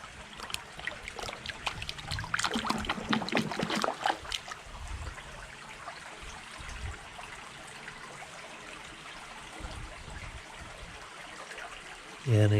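A sifter swished through high water in a city creek while treasure hunting, giving a few seconds of close, rhythmic splashy sloshing bursts that settle into a steady, close trickle of running stream water, with a short thump at the end.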